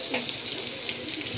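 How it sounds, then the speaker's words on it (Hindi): Stuffed bitter gourds frying in oil in a kadhai give a steady, close hiss of sizzling that fills the whole moment without a break. "मैं इनको तेल में फ्राई होने के लिए डाल दूँगी।"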